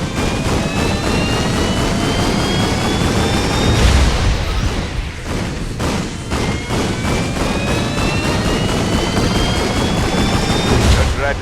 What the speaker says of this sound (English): Try firing your combustors at once to deliver a supercharged blast of power.